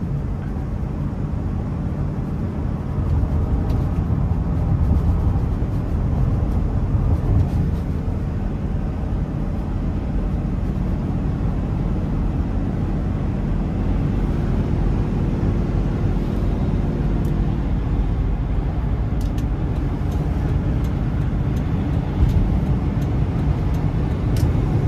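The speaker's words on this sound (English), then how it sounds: "the V10 has a ton of top end power" A 2004 Ford F-350 XL pickup with a 6.8-litre V10 pulls hard under full throttle, its steady engine roar heard from inside the cab and building gradually over a long stretch.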